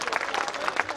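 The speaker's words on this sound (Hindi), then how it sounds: "ताली बजाइए जोरदार सर," Hearty applause from a mushaira audience in Mogalpura, Deoria, a dense crackle of clapping that swells and pulses for the whole second, close and fairly loud.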